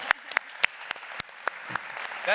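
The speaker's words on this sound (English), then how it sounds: "So give him a big round of applause for that." A small conference audience claps in scattered, uneven bursts, each clap crisp and distinct, with a murmur of voices underneath.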